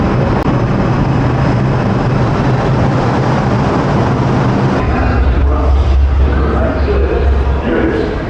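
A New York City subway train roars steadily through the clip, a loud, continuous rumble from inside the car that shifts to a deeper, heavier drone partway through.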